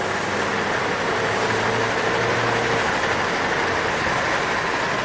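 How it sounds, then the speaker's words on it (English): A Ford EcoBoost van engine, suffering from surging and stalling, is held at half throttle, a steady loud drone with a broad turbo rush and hiss that stays constant throughout without revving up or down. "I'm just going to hold it at half throttle and you'll hear the turbo"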